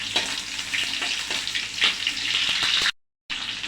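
A large onion and four or five chopped garlic cloves fry in hot oil, giving a close, continuous crackling sizzle that drops out briefly near the end before returning.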